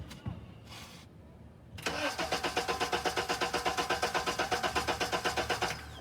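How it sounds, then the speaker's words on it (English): Honda engine cranking over on the starter during a valve adjustment, a brief click then about four seconds of steady rhythmic chugging that stops without firing, close and fairly loud. "I will crank it about 8 seconds"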